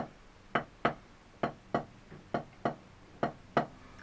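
Drumstick strokes land in quick pairs on a hard surface, sharp clicky taps repeating steadily, fairly quiet and close.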